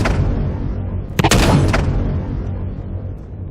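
Gunfire aimed at a laser turret in the Empyrion video game: a sharp, loud burst of shots around the middle, over a low rumbling bed that fades afterward.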